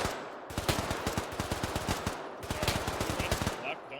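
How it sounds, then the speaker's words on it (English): An enemy machine gun fires in Arma 3, with rapid, sharp bursts of automatic fire. One long burst is followed by a short pause and then another burst, loud and fairly close. "The enemy machine gun."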